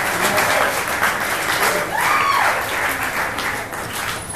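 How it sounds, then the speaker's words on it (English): A comedy competition crowd applauds a comedian, a steady wash of clapping from many hands with faint voices and a few whoops mixed in. "Give us a round of applause."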